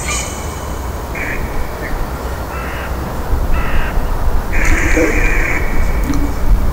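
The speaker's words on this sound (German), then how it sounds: "Wir sind in der Natur, die Krähen rufen." Several harsh crow caws, spaced irregularly, rising over a constant low background rumble outdoors.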